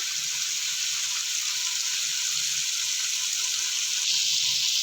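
Tomatoes and onions sauté in a pan for mutton biryani, a steady close hiss of frying that runs unbroken throughout with no voices.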